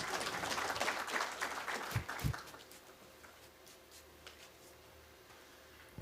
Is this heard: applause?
yes